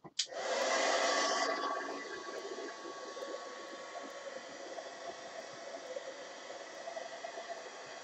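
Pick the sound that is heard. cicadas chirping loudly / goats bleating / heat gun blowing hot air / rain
heat gun blowing hot air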